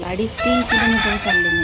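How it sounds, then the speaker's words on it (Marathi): Roosters crowing on an early-morning walk around 6:15, with repeated cock-a-doodle-doo calls rising and overlapping across the short stretch, fairly close and clear, while a voice speaks faintly underneath. "कोंबड्यांचा आवाज एवढ्या दिवसातनं मी ऐकला फर्स्ट टाईम."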